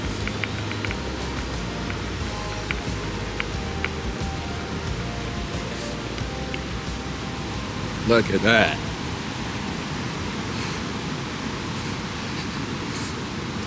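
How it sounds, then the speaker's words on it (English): A steady, broadband roar of water rushing over a waterfall fills the whole stretch, with one brief spoken remark partway through. "That's a lot of water rushing over that waterfall."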